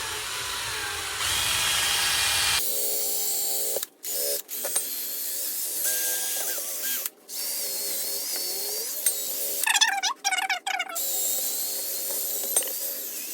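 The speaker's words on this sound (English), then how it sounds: "You have to get some of this onto your polishing wheel. And then I guess just go around and polish it up." A polishing wheel on a power tool buffs a Chevy/GMC PYO wheel rim. It gives a loud, steady mechanical whine that briefly cuts out and restarts several times, with scraping bursts in between.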